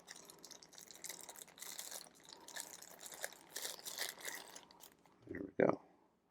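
A thin plastic bag crinkling and rustling as a Vosteed Naga knife is unwrapped from it, a steady faint close crackle that ends in a brief louder rustle.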